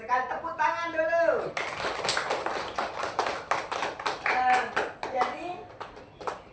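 Children clap together during an Islamic studies lesson, a burst of quick, overlapping hand claps that follows a short stretch of an adult voice, with speech running under it.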